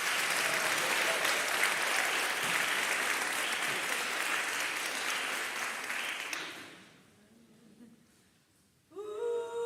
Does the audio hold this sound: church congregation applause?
yes